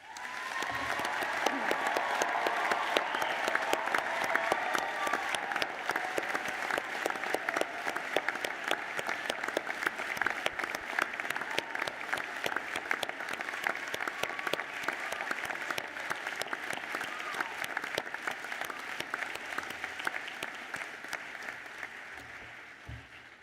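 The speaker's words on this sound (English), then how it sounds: "Please join me in applauding their remarkable achievements." Sustained audience applause for graduates at a university graduation ceremony in a large hall, an even wash of many hands clapping that stays steady for over twenty seconds before tapering off.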